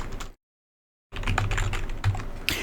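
Keywords are typed on a computer keyboard in quick clicking bursts, close and clear, broken by a short silent pause before the tapping resumes.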